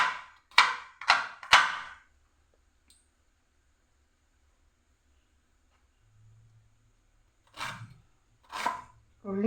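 A knife chops jackfruit cutlet mixture into small pieces in four sharp, close strikes at a quick, even pace, followed by quiet and then people talking.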